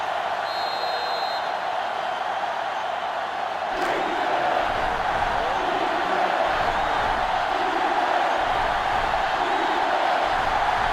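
A stadium crowd in the NCAA Football 2005 video game makes a steady, distant roar that swells slightly louder midway, with a faint sharp tick near the start.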